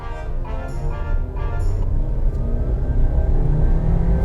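An MG ZS car accelerates hard from a rolling start in an acceleration test, its engine rumbling and rising as it gathers speed, heard from inside the cabin and steady throughout.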